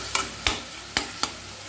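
A spoon scrapes and stirs a banana stem stir-fry with crushed fennel and garlic in a pan, four short knocks over a faint, steady sizzle.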